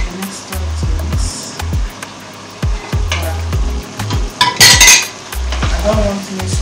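A pot of egusi soup with fish being stirred, a spoon scraping and knocking against the pot in a steady, uneven rhythm over a low sizzle, close and fairly loud, with no talking.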